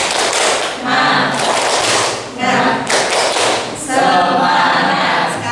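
A group claps in a quick rhythmic pattern, loud and close, in repeated bursts with brief pauses between them.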